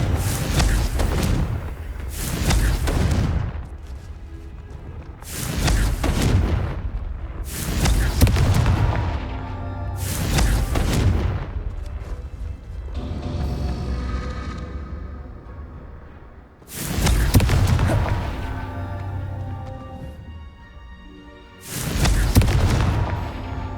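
Repeated Confringo fire spell blasts in the Hogwarts Legacy video game, about seven loud booming explosions spaced a few seconds apart, each with a rumbling decay, over quieter background game audio.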